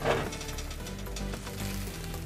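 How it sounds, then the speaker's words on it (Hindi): An egg fries in oil in a frying pan, giving a steady soft sizzle at close range, with a faint crackle and no talking. "फ्राई पैन में जो है वो हम ऑयल लगा देंगे और अब अंडा फ्राई करेंगे"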